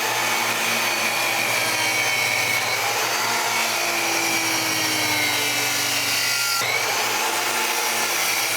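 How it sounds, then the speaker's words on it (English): A miter saw cuts wood pieces about 10.5 inches long for a bottle stand. A steady motor whine and cutting noise holds for the whole stretch, with a brief break near the end. "cut it down with the miter saw"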